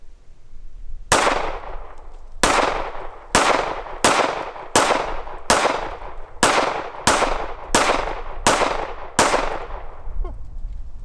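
Ten sharp gunshots of HST rounds fired at pumpkins crack out one by one at roughly one-second intervals, loud and close, each with a short ringing decay, with no voices between them.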